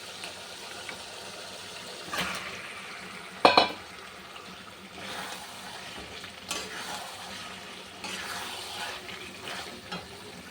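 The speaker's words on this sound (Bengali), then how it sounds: "এবার এই চিকেনটা দিয়ে দিলাম" Chicken pieces frying in a pan of spiced yogurt masala, a soft continuous sizzle broken by a few spoon-stirring scrapes and one sharper clatter, fairly quiet with no talking.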